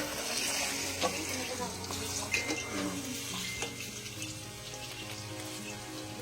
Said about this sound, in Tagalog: niluluto ko na, binabarbecue ko na